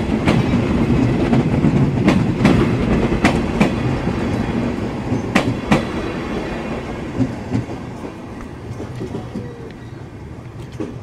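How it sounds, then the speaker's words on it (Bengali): Rupsa Express passenger train pulling away from Alamdanga railway station, with loud rolling wheel rumble and rhythmic clickety-clack of carriages over rail joints, sharp clacks recurring as the coaches pass and the sound slowly easing. "ট্রেন নাম্বার 727 রূপসা এক্সপ্রেস আমাদেরকে আলমডাঙ্গা রেলওয়ে স্টেশনে রেখে চলে গেল"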